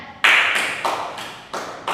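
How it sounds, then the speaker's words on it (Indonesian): Classroom applause for groups that have just presented, heard as a handful of separate, fairly close hand claps spaced unevenly over about two seconds rather than a dense round of clapping. "Beri tepuk tangan untuk ketiga kelompok yang sudah mempresentasikan."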